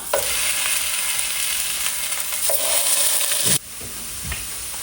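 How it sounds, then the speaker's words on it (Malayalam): Chopped banana fries in ghee with a loud, continuous sizzle and occasional stirring scrapes. The sound drops abruptly near the end to a softer simmer. "നമ്മൾ ആദ്യം എന്താ നമ്മുടെ ഗീ ഇട്ട് കൊടുക്കുകയാണ്. അരിഞ്ഞു വെച്ച പഴം ഇട്ട് കൊടുക്കാം."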